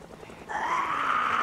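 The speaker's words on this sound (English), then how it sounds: "that damn helicopter's just kind of ruining my day" A helicopter in the video game Project Zomboid swells in at mid-clip into a steady, fairly loud droning whine that holds on without a break, with no talk over it.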